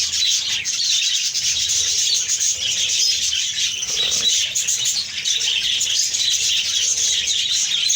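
A flock of parrots being fed grain keeps up a dense, continuous chatter of high chirps and squawks. There are faint rustling and wing sounds, and no voices are heard.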